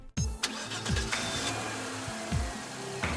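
A car engine is started on a dark road at night, with the starter cranking in repeated short turns before the motor catches into a steady mid-pitched running hum, close and clear with no talking.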